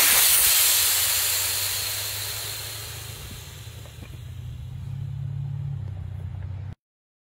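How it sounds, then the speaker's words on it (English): Air hisses steadily out of the pressed-open valve of a Run Wave inflatable stand up paddle board, a loud broadband rush that eases off a little and then stops abruptly, with no voices. "Press the valve down, and the air will come out"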